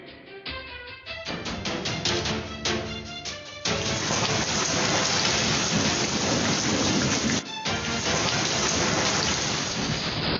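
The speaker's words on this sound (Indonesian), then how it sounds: "Badai aneh dengan angin yang merusak, hujan es, kilat, dan hujan lebat" Heavy rain pours down in a thunderstorm, a dense, loud, continuous hiss with rolling thunder mixed in and a brief dip before the downpour resumes.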